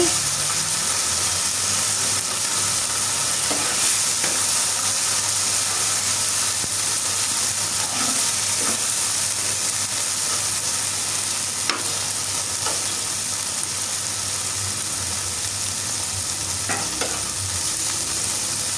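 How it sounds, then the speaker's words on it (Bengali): Chopped onion and tomato, with a little water and salt, sautéing in a pan: a continuous close sizzle and hiss with occasional soft stirring clinks. "পেঁয়াজের সাথে টমেটোটা খুব ভালোভাবে কষিয়ে নেব"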